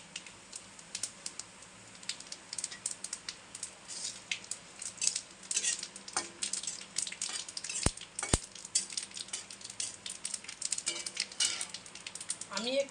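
Bay leaf and whole cumin sizzle in hot oil in a pan, just after potatoes were fried. The crackling is faint and fitful, with light stirring scrapes and taps.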